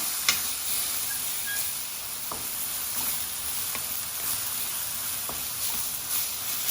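Stuffed calamari in sauce seasoned with pepper and Espelette chili is stirred lightly in a pan, giving a steady close sizzle with faint scraping and a few soft utensil taps.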